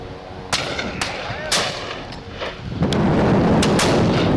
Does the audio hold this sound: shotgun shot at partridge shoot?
yes